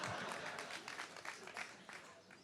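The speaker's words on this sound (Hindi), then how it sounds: "इसीलिए लोग ताली बजा रहे हैं।" Faint audience clapping at a Hindi storytelling talk, a soft, steady patter of many hands running throughout the short stretch with no voice over it.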